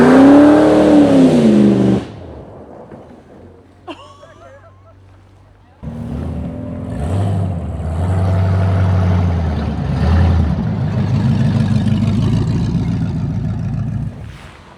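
A car engine revving loudly at the Alaska car launch event, a strong roar with a rising whine that drops away, then a steady rumbling drone, with people talking in the background.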